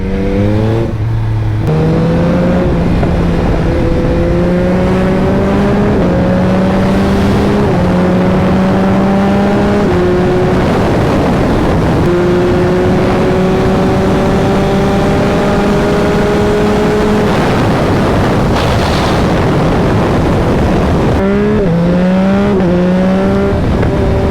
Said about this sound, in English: the induction noise is pretty nice now